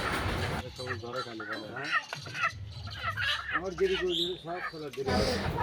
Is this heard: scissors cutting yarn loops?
no